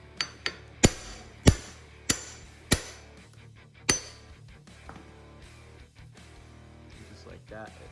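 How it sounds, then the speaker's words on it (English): A hammer striking the back of an impact screwdriver to free stuck screws during disassembly of a Suzuki DRZ400SM motorcycle, seven or so sharp, ringing metallic blows at irregular intervals, close and loud, followed by faint handling noises. "you just hit the back of it with a hammer, and that shock will give it kind of an impact and try to twist those free"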